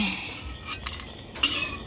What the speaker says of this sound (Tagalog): inilalagay na po ni John Paul sa pinggan po yung aming sinangag na mani